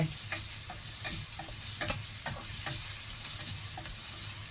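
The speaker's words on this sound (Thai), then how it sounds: "พอเห็ดสุกแล้วทีนี้เราก็ใส่เนยเข้าไป" Mushrooms fry in a pan as butter goes in for a black mushroom spaghetti sauce, giving a steady sizzle broken by repeated scraping stirs, close up with no talking.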